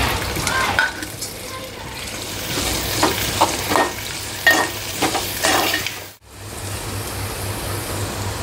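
Onion and chili frying in a pan give off a steady, close sizzle, with intermittent stirring scrapes and clinks and a brief break partway through.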